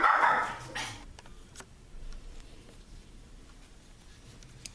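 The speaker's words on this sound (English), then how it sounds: "My dog went a little crazy when the doorbell rang" A pet dog indoors barks loudly and excitedly after a doorbell rings. A burst of close barks comes at the start, then fades to faint rustling and quiet room sounds.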